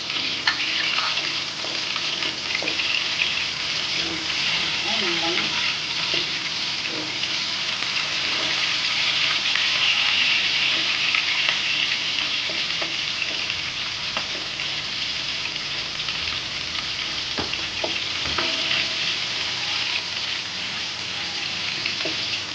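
Onion sautéing for chicken caldereta, a steady loud sizzle and crackle that fills the whole stretch without a break, with a few faint scrapes of stirring underneath and no talking.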